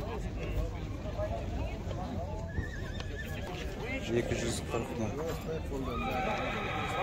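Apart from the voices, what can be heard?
horse neighing at livestock market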